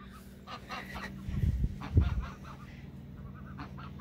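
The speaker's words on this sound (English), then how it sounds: "Beautiful geese that we've raised as little chicks." A small flock of young geese raised from chicks honks and clucks in a garden pasture, several low nasal calls clustering near the middle, moderately close over a faint outdoor background.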